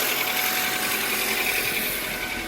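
An Acura RSX engine idles with fresh antifreeze circulating after a water pump replacement, a steady close rumble with light rattly vibration and no break.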